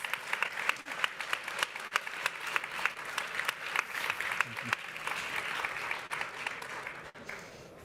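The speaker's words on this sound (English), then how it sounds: "please give a big applause to all of our panelists" Sustained applause from a conference audience for a panel on floating offshore wind, dense clapping at a steady level that fades out near the end.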